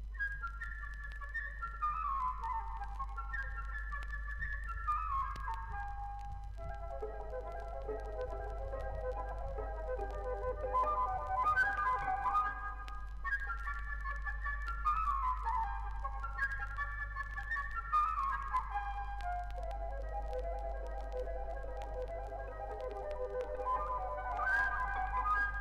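Orchestral woodwind music from Prokofiev's Peter and the Wolf depicts a blackbird whistling joyfully, bright trilling phrases that rise and fall in repeated figures over a low sustained bass, with no voice.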